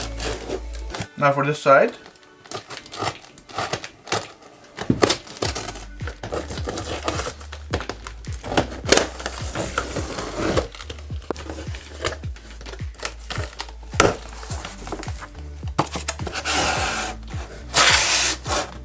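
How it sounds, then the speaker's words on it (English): A box holding a toddler-size Ferrari 488 GT3 push car is sliced open with a Cutco knife in quick, irregular scraping and tearing strokes of cardboard and tape, close by, with someone talking briefly over it. "Let's go ahead now and cut it open here with my Cutco knife"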